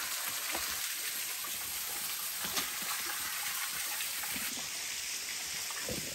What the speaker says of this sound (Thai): น้ำตกแสงจันทร์น้ำนี่เดียวเองจ้ะ ไหลปอกแป๊กปอกแป๊ก